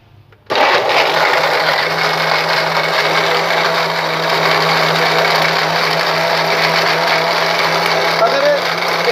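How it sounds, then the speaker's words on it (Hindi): An electric grinder switches on abruptly and whirs loudly and steadily, grinding thick lumps of jaggery with water in a continuous high-pitched buzz. "मेरे पास जो गुड़ है ना उसकी डेलियाँ मोटी, तो इसलिए मैं ग्राइंड कर रहा हूँ"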